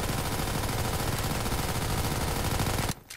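An SMG in a video game fires one long, rapid, continuous burst at close range and loud volume. It stops abruptly just before the end, with no speech.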